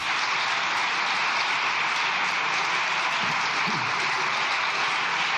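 Steady, dense applause fills a large parliament chamber, a continuous wash of clapping from many people with no pauses.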